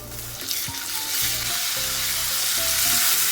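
Loitta (Bombay duck) fish frying in mustard oil, a steady close sizzle with broadband hiss and a few faint clinks and tonal kitchen sounds underneath, no talking.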